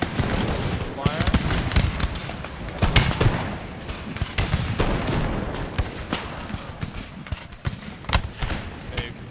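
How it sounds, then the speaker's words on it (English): Cannons and musket volleys thunder across an Empire: Total War battlefield at Rupert's Land, with scattered booms, cracks and rolling gunfire running continuously while someone talks over the din. "We got the cannons up there. Once they start firing again, are they ready?"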